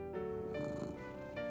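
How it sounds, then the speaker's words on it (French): A low, steady cat purr with a soft tonal hum runs continuously, close and gentle, with no talking, in a cartoon. "Mais il aimait encore plus le doux ronron de son chat Gilbert."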